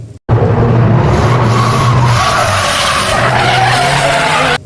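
A toy racing car sound effect: an abrupt, loud tire squeal and skid that starts after a brief silence and holds steadily for over four seconds before cutting off.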